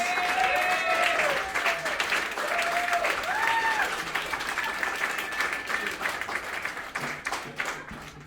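A comedy club crowd gives a steady round of applause for the comedian's parents at a stand-up show. The clapping is continuous and fairly close, with a few voices over it, and it slowly tapers off.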